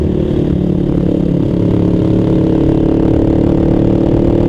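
A Honda XR200R motorcycle engine with an abnormal noise runs at a steady, loud idle with a rough, droning mechanical hum and no voices.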